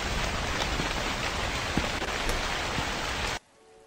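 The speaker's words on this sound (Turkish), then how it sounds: "Abi çok yağmur tutuyor diyor." Heavy rain in the horror game The Convenience Store, a dense, steady wash of drops loud and close with no speech, cutting off abruptly near the end into near silence.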